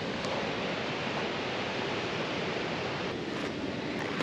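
Water pours steadily over the falls at Chutes Provincial Park in Northern Ontario, a constant broadband rushing roar, close and unbroken throughout, with no voices.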